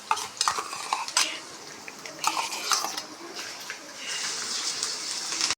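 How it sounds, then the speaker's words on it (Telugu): Onions and green chillies fry in hot oil in a home kitchen pan, giving a steady crackling sizzle that swells toward the end, broken by sharp scrapes and clinks of a stirring utensil against the pan. "ఆయిల్ కాగినాక ఉనిగడ్డ పచ్చిమిర్చి వేసుకోవాలి వేగుతుంది కదా"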